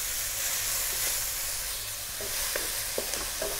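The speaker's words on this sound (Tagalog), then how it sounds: "Gigisahin ko lang siya sandali." Chicken and curry powder sizzle steadily in a pan, with a few light scrapes and clicks of stirring near the end.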